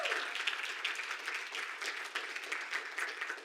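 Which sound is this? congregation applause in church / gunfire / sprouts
congregation applause in church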